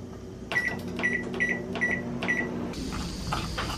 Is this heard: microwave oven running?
yes